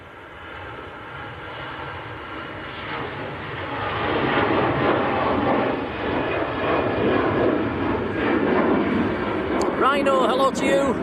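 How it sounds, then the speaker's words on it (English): EasyJet airliner bound for Nice starting its takeoff roll at Manchester Airport. Distant engine roar builds and swells to a loud sustained rush, with a voice talking over it. "Next to depart and just starting the roll is EasyJet to Nice down in the south of France"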